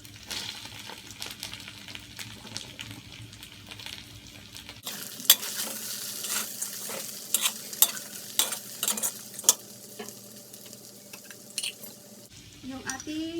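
Bean sprouts tossed in a hot pan, soft sizzling with scattered scraping stir strokes that grow louder after the sprouts go in, near and moderately quiet.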